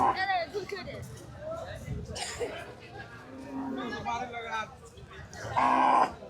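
Cattle low and moo at a busy Qurbani livestock market, with several calls near and far over constant crowd chatter and people talking.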